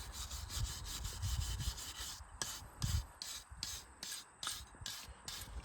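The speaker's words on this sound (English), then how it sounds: "getting all the old gasket and silicone that somebody put on there off of there now" Old gasket material and silicone are scraped off an Oliver Cletrac OC3 crawler tractor in steady back-and-forth strokes, close and alone, the rasping turning into distinct separate passes partway through.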